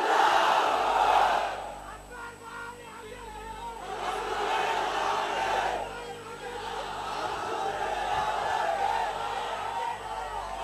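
A large crowd at a political rally in Bhiwandi, Maharashtra roaring and chanting in unison in response to a Takbir slogan, swelling waves of massed voices heard over a loudspeaker-style amplified speaker.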